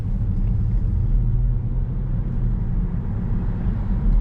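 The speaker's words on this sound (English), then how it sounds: "The car actually does sound better and seems like it's running better too." A 2009 Honda Accord V6 cruises along, its engine a steady low rumble heard from inside the car, continuous and moderately loud with no voices.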